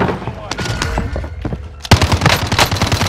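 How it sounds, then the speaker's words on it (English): Loud, rapid video-game gunfire, with weapons shooting through a wall, bursting in a dense volley that grows harsher and denser partway through, with excited voices talking over it. "are you just shooting through that wall?"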